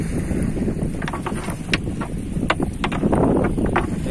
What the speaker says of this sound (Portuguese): vocês estão vendo aí que tá ventando bastante